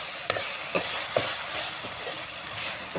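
An onion and tomato tempering with a pinch of asafoetida, salt and sugar sizzles steadily in a pan, with occasional sharp clicks of stirring over the constant frying hiss.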